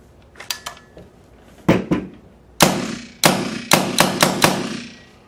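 A Tippmann 98 Custom Platinum paintball marker test fires after a firing fault repair, letting off about nine sharp, close shots in irregular single and rapid bursts, each with a short ringing tail, over a quiet background.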